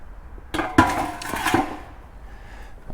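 Clanking metal strikes as a screw comes out and a rear differential cover pan drops loose, a few sharp close impacts with rattling in between over faint background.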